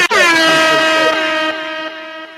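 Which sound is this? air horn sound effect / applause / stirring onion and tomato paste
air horn sound effect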